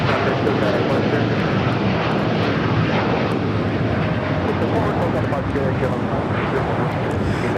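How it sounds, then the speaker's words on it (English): A KLM Boeing 787-9 Dreamliner takes off at LAX, its engines giving a continuous loud roar with a rushing, wind-buffeted texture that holds steady throughout. "604 taking off to Amsterdam on a 787-9 Dreamliner."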